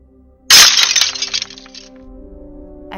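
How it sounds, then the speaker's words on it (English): A sharp glass-like crash bursts out loud, followed by fading clinks and rattling debris, then low muffled shuffling sounds of a struggle. "A crash-like noise interrupted him as the sound of struggling followed suit."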